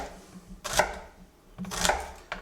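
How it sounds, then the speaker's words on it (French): A knife slices finely through a peeled, halved onion on a board in two brief bursts of crisp cutting, close and fairly quiet, with no talk. "le trancher finement comme ça, de façon à obtenir des demi-cercles"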